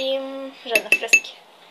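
Metal utensils clink against a bowl while ingredients are mixed, a quick burst of four or five sharp taps following a brief low hum, close and fairly loud.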